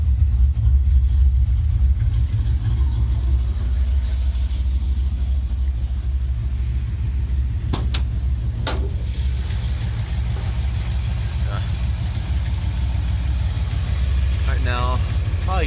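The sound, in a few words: 1980 Plymouth Volare sedan engine idling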